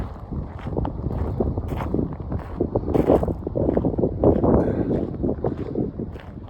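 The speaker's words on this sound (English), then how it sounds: "that wind is killer" Strong wind buffets a microphone outdoors at the Kyoto Imperial Palace grounds in spring, with loud, continuous rumbling gusts that rise and fall for several seconds.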